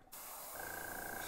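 A steady aerosol hiss from a spray paint can starts abruptly and continues without a break, close and fairly loud, with no talking, as a fishing lure is painted.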